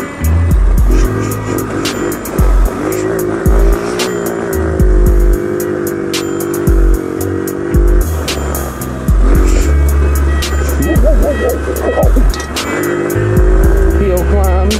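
Small Trail 70 CT70-clone mini bike engine revs and drones continuously while riding off-road, loud and close, with throttle swells and dips throughout.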